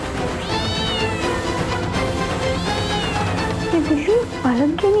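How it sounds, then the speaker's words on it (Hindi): A cat hiding under a bed lets out two drawn-out meows, close and clear, over soft background music, before a person begins speaking near the end. "ये बिल्ली पलंग के नीचे घुसकर क्या कर रही है?"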